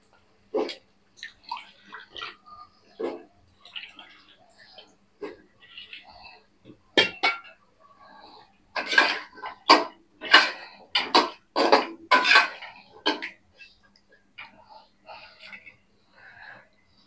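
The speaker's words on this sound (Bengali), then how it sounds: "আমি আগে আলুগুলো দিয়ে দেবো মশলার মধ্যে।" Potatoes go into a pot of well-fried spice paste for a rohu fish curry with potato and bottle gourd, making a string of irregular close clatters, knocks and scrapes that cluster more densely midway.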